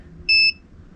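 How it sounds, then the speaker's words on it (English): An FCHAO power inverter, connected to a 12-volt supply, gives a single short electronic beep when switched on: a bright, clean tone lasting about a quarter second, heard alone against a faint low hum. "It beeps."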